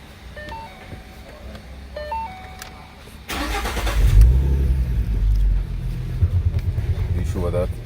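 A 2012 Ford Mustang with a manual clutch cranks and catches, its engine settling into a steady close idle inside the car after a few soft dashboard chimes, with a voice speaking over it.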